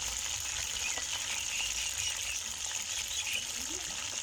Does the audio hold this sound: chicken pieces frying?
yes